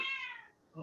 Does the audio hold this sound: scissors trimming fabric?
no